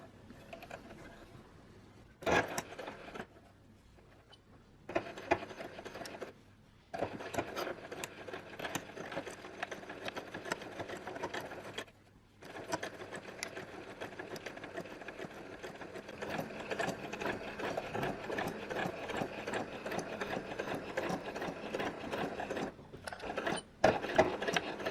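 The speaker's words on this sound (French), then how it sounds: "J'ai choisi encore une fois de le coudre à la machine." Sewing machine running as it stitches the hem of a formal ceremony dress, with short bursts and pauses early on, then long steady runs of mechanical whirring and needle chatter, close and fairly loud, with no talking.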